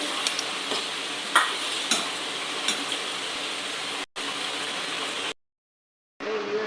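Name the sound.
tomato gravy cooking and being stirred in a pan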